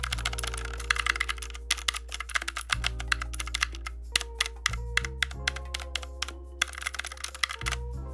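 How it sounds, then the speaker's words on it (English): Fingers type steadily on a clicky mechanical keyboard, producing rapid, crisp keystroke clicks in irregular bursts, close to the mic, over a quiet sustained musical bed. "I'm just giving you the sound effects of this keyboard."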